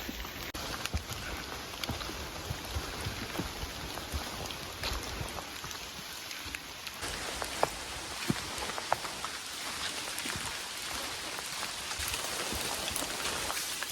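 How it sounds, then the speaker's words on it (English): Drizzly rain in a dark forest, big fat drops falling through the canopy and pattering steadily onto a jacket hood close by, a dense, continuous, irregular tapping that lasts throughout. "Big fat drops just coming through the canopy, landing on your hood."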